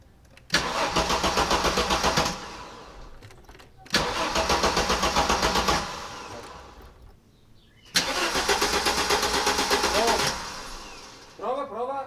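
A five-cylinder Audi Coupé GT engine cranks hard in three long rhythmic bursts, separated by short pauses, and fails to start; the starter chugs loud and close, and a voice speaks briefly near the end.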